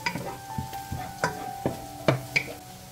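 Diced onions in a pot, stirred with a utensil that gives several distinct scraping clanks at an irregular pace over a soft background sizzle, fairly quiet and close.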